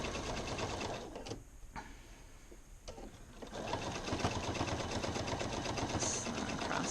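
A sewing machine stitches across the middle of a pant leg, fast rhythmic mechanical clatter that pauses briefly and then resumes steadily.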